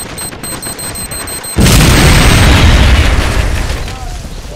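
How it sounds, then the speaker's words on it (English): A loud explosive charge detonates in the Call of Duty World War 3 mod, a sudden heavy boom after a quiet stretch with tones, followed by a long rumbling decay that stays loud to the end. "Now get a safe distance from the explosive."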